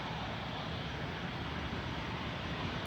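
Steady, broadband roar of a fixed-wing airliner's engines at an airport, continuous and even throughout with no voices.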